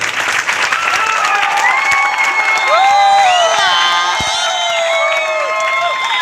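A big crowd claps loudly at a seminar gathering while voices shout and cheer with rising whoops over the steady applause.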